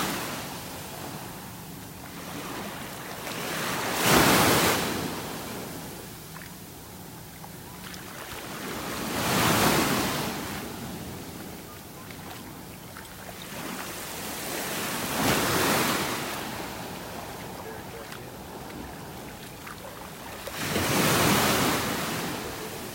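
Ocean waves break on a beach in North Naples, Florida, in four slow surges about every five to six seconds, each rising to a hissing crash over a constant windy wash.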